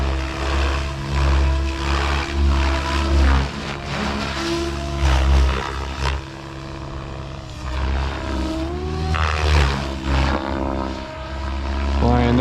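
XL Power Specter 700 RC helicopter flying with its rotor head spinning at 2080 RPM, a steady loud whine and drone that holds throughout and surges slightly as it maneuvers.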